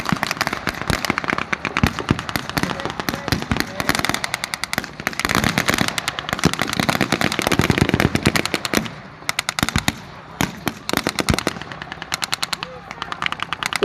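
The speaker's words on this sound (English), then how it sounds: "Allied troops are pressing forward across the open field, ducking the bullets as they go." Continuous blank-firing rifles and machine guns crackle across an open field at a Second World War battle re-enactment at Military Odyssey 2025, a dense, loud barrage of overlapping shots with barely a pause throughout.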